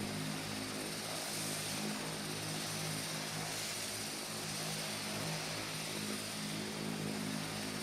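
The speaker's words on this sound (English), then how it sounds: "I'm going to show so we can see the takeoff." Propeller airplane engine droning steadily during takeoff, a loud continuous roar with a buzzing hum from start to finish, heard from inside or close by, without speech.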